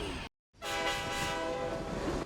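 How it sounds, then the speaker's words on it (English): A train on tracks in the Spider-Man animated series rumbles loudly with a sustained horn-like tone after a brief silent cut, the rolling noise steady and close throughout. "so we're starting by a train tracks with a train"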